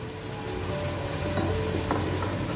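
Chickpeas fry in spice masala in a pan for chana pulao, a steady close crackling sizzle with a couple of brief utensil knocks near the end, no talking.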